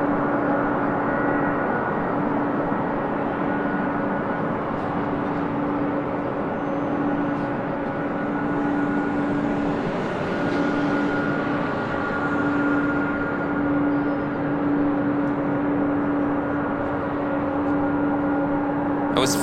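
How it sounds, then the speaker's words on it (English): An Air Canada Boeing 737 MAX 8 arrives on runway 24 left, making a steady, sustained jet roar with a droning engine tone that stays loud throughout. No one speaks. "It was flight 552 coming in from Vancouver on the 5-year-old 737 MAX 8."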